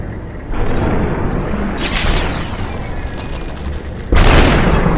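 Gunshots in the video game Superhot: two loud, booming blasts, one in the middle and one near the end, stand out over a constant roaring game background with no talking.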